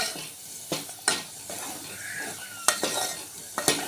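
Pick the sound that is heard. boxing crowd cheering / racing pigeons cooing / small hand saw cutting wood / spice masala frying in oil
spice masala frying in oil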